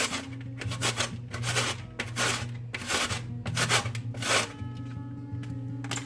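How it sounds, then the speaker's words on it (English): Mango being grated on the larger holes of a box grater, a steady series of rasping strokes repeated close up with a rhythmic scraping texture and no talking. "you want to just start grating your mango just like this"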